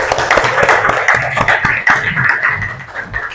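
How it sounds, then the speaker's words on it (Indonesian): Students clapping together in a classroom after winning a group exercise, a short burst of irregular hand claps close by, with light talk mixed in. "Tepuk tangan dulu dong."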